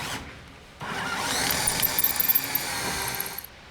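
A power drill bores a hole through a tube while building a Skybolt PPG paramotor frame, a steady close whir rising from about one to three and a half seconds, bracketed by quieter handling noise.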